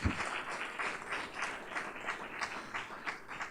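Steady audience applause at a startup funding forum, many hands clapping in a dense, continuous wash at moderate level with no voices over it.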